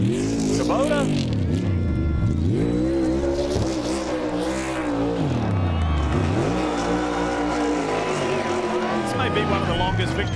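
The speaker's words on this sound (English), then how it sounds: "Be one of the longest victory burnouts I've seen" A NASCAR Cup Series race car at Kansas Speedway revs and roars through a long victory burnout, its engine rising and falling in repeated surges with tire noise, loud and close, with a commentator's voice over it.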